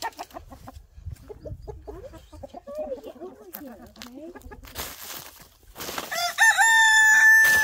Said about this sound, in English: The hens are playing with cheese.